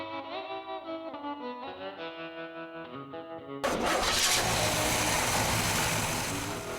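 A 371 cubic inch Rocket V8 in an Oldsmobile Dynamic 88 cranks with a rhythmic starter whir for a few seconds, then catches and roars into a loud, rough, steady idle close by.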